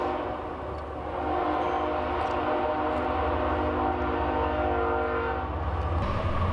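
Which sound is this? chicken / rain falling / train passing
train passing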